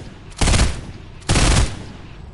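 Two sharp bursts of rapid gunfire in a video game, each about a third of a second long and loud, spaced roughly a second apart, with no talking over them.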